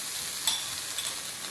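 Ginger garlic paste frying in hot oil on a tawa with whole spices, giving a steady close sizzle and hiss with a few brief spatters, and no talking.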